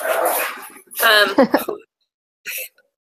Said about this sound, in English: my dogs are going to be loud now